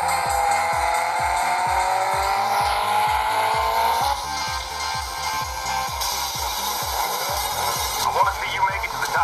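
A car racing game plays on a Leagoo Lead 1 phone, with a steady engine drone rising through gears, rhythmic pulsing and occasional tire squeals, loud and continuous under in-game sound effects.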